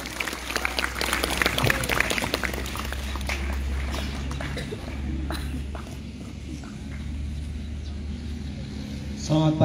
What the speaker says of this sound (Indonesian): Boleh tepuk tangan untuk pasangan calon nomor 1